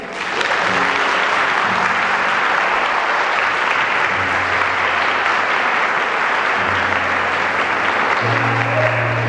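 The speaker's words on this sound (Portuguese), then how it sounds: "Se você crê nisso, aplauda o Senhor." A church congregation applauds during a Portuguese-language sermon on restoration, many hands clapping in a continuous, loud wash that holds steady for several seconds with faint tones underneath.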